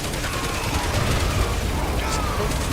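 Dense, continuous clatter of gunfire and mechanical noise in Resident Evil 6 fills the whole moment, loud and close with no pause.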